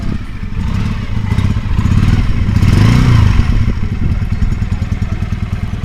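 A two-cylinder 125cc Junak M11 chopper motorcycle engine with twin carburetors runs loud and close with a steady rapid thumping pulse, swelling briefly in revs before settling back.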